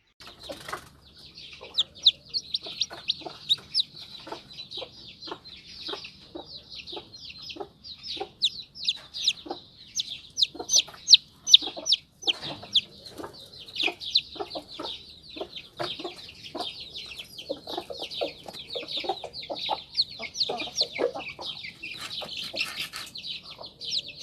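A four-legged chick makes high, thin cheeps that repeat rapidly and persistently, alongside soft scratching and light fluttering noises close by.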